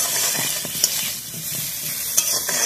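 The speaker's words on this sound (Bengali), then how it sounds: "এগুলো খুব ভালোভাবে লাল লাল করে ভাজা হয়ে গেছে" Potatoes fry in a pan with salt and turmeric for a soybean and pointed gourd dish, giving a steady close sizzle with a few sharp stirring scrapes and clinks throughout.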